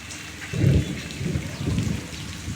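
Low rumbling thunder rolls through a steady rain hiss, swelling loudly around the middle and rumbling on in softer waves.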